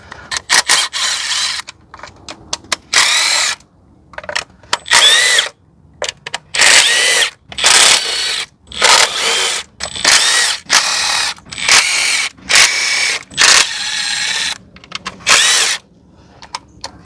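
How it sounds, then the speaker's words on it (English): Power drill loosening the valve cover screws on a BMW N20/N26 engine, a series of about a dozen short, loud whirring bursts separated by brief pauses and small clicks, with no talking. "now I will start to remove all the screws for the valve cover"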